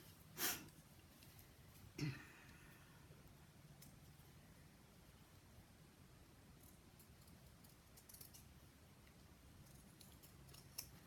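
Scissors snip through material for a miniature ironing board cabinet, two crisp close cuts early on and then a quiet room with faint rustling.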